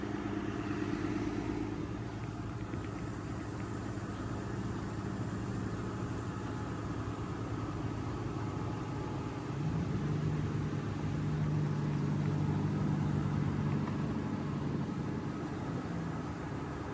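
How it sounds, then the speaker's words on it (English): A large boom truck's engine runs steadily at a low, even hum throughout, with a slightly louder drone in the second half and no voices. "It's a good-sized boom truck. It's perfect for this kind of job."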